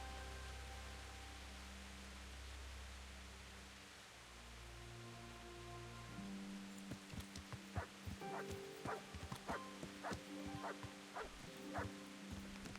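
Dog barking in the medieval RPG Kingdom Come: Deliverance, a run of short sharp barks starting midway through and repeating irregularly over a steady low ambient game drone at dusk.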